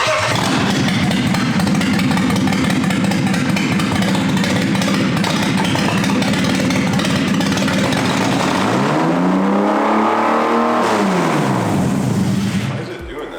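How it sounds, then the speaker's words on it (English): BMW E30 with a swapped S52 engine on a rough cold start, loud raspy idle with blips and a rising then falling rev sweep near the end, close by with people talking over it. "It wants to do the fucking meanest cold start in the world."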